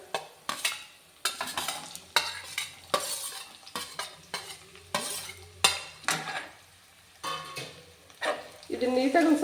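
Onions and green chillies sizzle in a pan while a utensil scrapes and stirs them in repeated short strokes, close and fairly quiet.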